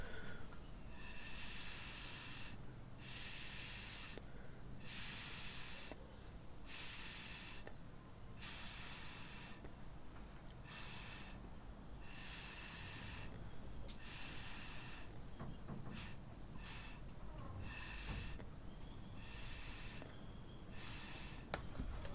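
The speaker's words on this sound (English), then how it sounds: "when you hit it with the little mini blower, it just blows all over the place" A small handheld mini blower hisses in repeated bursts as it pushes thin paint across a pillow surface, short loud blasts separated by brief pauses, close and steady, with no one speaking.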